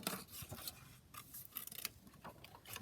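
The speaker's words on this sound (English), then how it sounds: "Actually, I can cut this word out." Scissors snip through paper in a quiet series of short, crisp cuts, close and soft, with brief pauses between snips and no voices.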